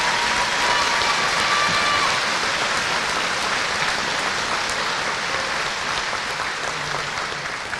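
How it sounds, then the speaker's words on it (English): A large convocation audience applauds to thank administrative staff. The clapping is dense and loud, sounding like heavy rain, and stays sustained before easing slightly near the end. "Please join me in a round of applause as we say thank you to everyone for another very successful year"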